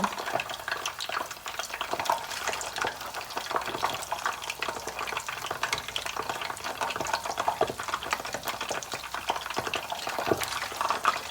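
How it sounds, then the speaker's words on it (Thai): Snakeskin gourami fish frying in hot oil, a steady dense sizzle and crackle running throughout with occasional louder pops, close and continuous with no talking. "ปลามันตัวใหญ่เนาะทอดได้สามสามตัวต่อครั้งก็พอแล้ว"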